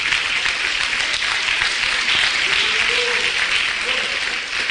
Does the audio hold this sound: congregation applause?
yes